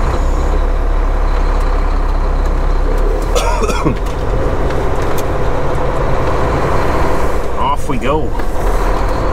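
A semi truck running bobtail with no trailer, its low diesel rumble loud and steady inside the cab, with a few brief squeals or hisses and a short spoken remark over it.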